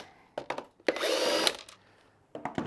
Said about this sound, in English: Jeff, what size bit are you using to remove those things?